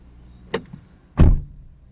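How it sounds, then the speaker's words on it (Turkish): Door of a Renault Laguna 2 car being worked: a sharp latch click, then a louder heavier thunk of the door a moment later, both close, with no talking. "Bakın kapıyı açıyorum."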